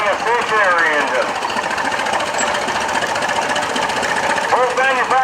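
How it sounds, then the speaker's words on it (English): An oil pull tractor rolls past in a construction expo parade, pulling a stationary engine. A steady knocking engine chugs throughout, and someone talks over it. "Here we got the oil pull coming through with a stationary, pulling a stationary engine."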